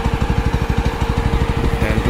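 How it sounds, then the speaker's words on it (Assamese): Yezdi Adventure motorcycle standing with its radiator cooling fan running, a steady close rumble with fast even pulsing throughout. "বাইকৰ ফেন চলি আছে, অকণমান দেৰি ৰখি দিছোঁ"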